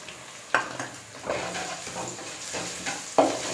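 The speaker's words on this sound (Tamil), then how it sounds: "இப்போ நல்லா இஞ்சி பச்சை வாசனை போகிற வரைக்கும் இந்த மாதிரி வதக்கிக்கிட்டோம்." Finely chopped ginger sautéing in a pan for Tamil country chicken fry, a soft sizzle with a few sharp scrapes and clinks of a spatula, close and alone.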